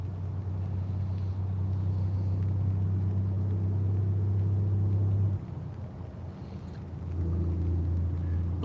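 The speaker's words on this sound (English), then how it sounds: "that sound is a truck off of Interstate 75 that's not very far away" A truck on nearby Interstate 75 drones as a loud, steady low engine rumble that dips briefly and then returns, with no voices.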